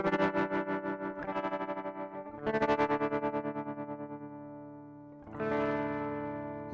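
Distorted synth or instrument chords processed through the BLEASS Dragonfly effects app on iOS, with gritty, fuzzy sustained tones that pulse and swell in three separate bursts, each decaying before the next.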